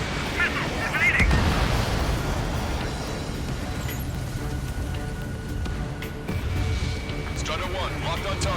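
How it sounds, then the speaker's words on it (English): Missiles strike and explode in the Ace Combat 7 aerial combat game, with a rumbling blast and crackling debris over jet noise as radio voices talk throughout. "Missile hit."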